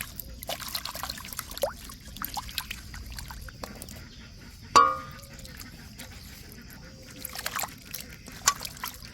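Fresh greens being washed in water, soft trickles and small splashes close by with one sharper slosh midway, set against a quiet outdoor background.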